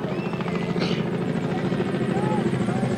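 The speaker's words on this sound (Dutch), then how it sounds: "Ik hoor hier een helikopter." A helicopter flying low over a crowded Elfstedentocht skating race in 1985, its steady rotor chop and engine drone continuous and close, with a commentator talking over it and crowd noise behind.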